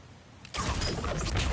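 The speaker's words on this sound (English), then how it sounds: "Sounds like you got the water moving along" Rushing water bursts into motion in God of War Ragnarök as a blocked trough is cleared, a sudden broad wash of sound that switches on partway through and then keeps flowing steadily.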